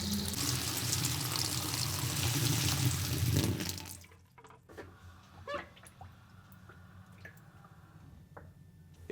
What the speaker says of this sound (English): fill the washer with water just below the pulsator level